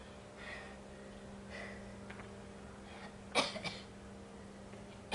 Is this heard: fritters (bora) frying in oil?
no